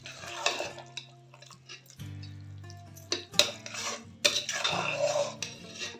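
Food is stirred and mixed in a cooking pot, with a spoon scraping and clinking against the metal in irregular bursts over a soft background hum.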